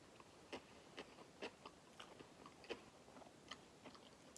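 Close, crisp bites and chewing on Five Guys pickles, with about eight short crunches at an uneven pace over quiet mouth noises.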